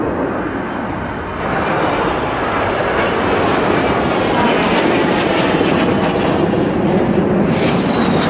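Spanish Air Force CASA C-101 Aviojet jets at a 1987 Fairford airshow, a loud continuous roar of jet engines that swells slightly after the first second and stays strong throughout.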